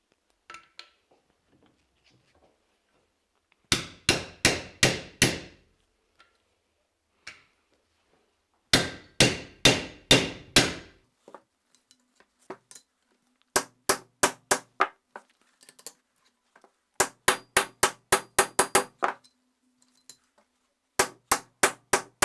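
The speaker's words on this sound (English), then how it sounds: "It should enter the receiver very tightly, so I will hammer it in." A part is hammered tightly into an AK-74M rifle receiver in quick bursts of sharp metallic blows, four or five rapid strikes per burst, repeated in several groups with pauses between, close and clear.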